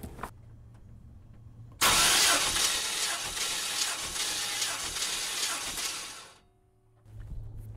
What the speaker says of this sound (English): go ahead inside the vehicle and give it a crank like you're trying to start it